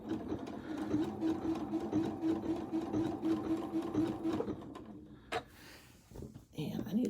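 A sewing machine stitches fabric in a fast, even run of mechanical clicks, then stops with a short auto-lock stitch and a sharp clack at the edge, while a person talks softly throughout.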